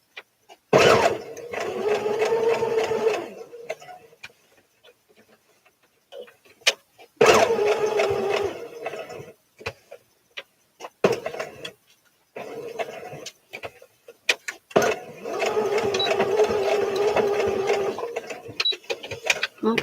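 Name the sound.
sewing machine stitching along a crocheted doily edge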